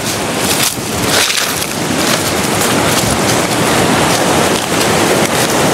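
Water of the rocky Tuntang river rushes loudly and steadily over many large stones, a dense broadband roar heard up close with some wind buffeting.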